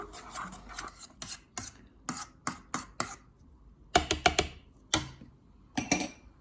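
A creamy vegan breakfast mixture is mixed by hand, with quick repeated scraping strokes in short bursts and brief pauses between rounds, close and clear with no talking.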